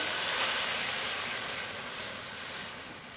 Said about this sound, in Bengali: এবার অল্প জল দেবো